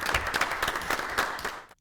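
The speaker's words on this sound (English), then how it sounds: "I'm going to give you an applause all by myself." A single person claps quickly and steadily for under two seconds, close and fairly loud, the rapid hand claps ending abruptly.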